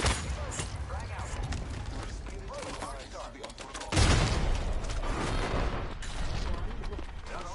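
Video game gunfire: scattered shots and a heavier boom midway ring out over a busy, continuous battle din, with voices talking throughout.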